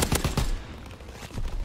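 Grease gun submachine gun fire in a video game, with dense, loud overlapping shots that bunch into bursts early on and pick up again toward the end, and no voices.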